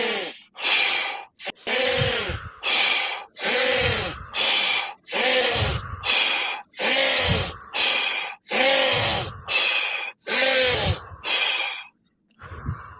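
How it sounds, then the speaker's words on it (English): Forceful breathing exercise, sharp inhales through the nose and hard exhales out through the mouth, repeated in a steady rhythm of about ten loud, close breaths, alone with no talk. "in through the nose, out through the mouth as hard as you can"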